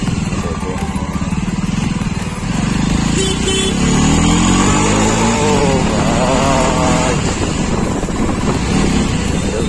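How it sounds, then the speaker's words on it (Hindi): A Jawa motorcycle on a ride through the market streets of Anantnag, Kashmir, pulls hard with its engine rising and revving through the gears, loud and close, the pitch sweeping upward over a constant throbbing exhaust. "बाइक खींच लिया ना जावा"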